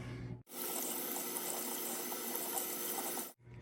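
Tap water runs steadily into a sink as peppers are rinsed underneath, a broad continuous rush that starts abruptly and stops just as suddenly after about three seconds.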